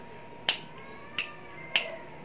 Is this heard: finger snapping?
yes